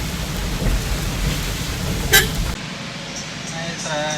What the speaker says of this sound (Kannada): ಮಳೆ ಬರ್ತಾ ಇದೆ ನಿಧಾನಕ್ಕೆ ಹೋಗಬೇಕು